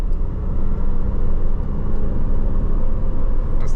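A car exhaust with its valves open rumbles loudly and deeply at steady revs under light load, a constant heavy drone with no talk.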